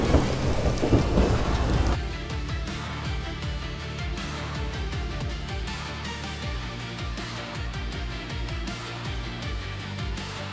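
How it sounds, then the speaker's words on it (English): Lightning strikes the Istanbul Financial Center during a rainstorm with a loud, close thunder crack. A rolling rumble follows, then steady heavy rain pattering on surfaces with occasional faint thunder beneath it. "The Istanbul Financial Center was instantly struck by lightning"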